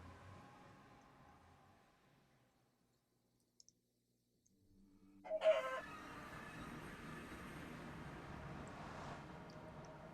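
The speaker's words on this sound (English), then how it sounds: "A chicken ruined the sound, I guess." Chicken in Minecraft Bedrock Edition clucking loudly and suddenly after a quiet stretch, with the clucks continuing over a steady background hum.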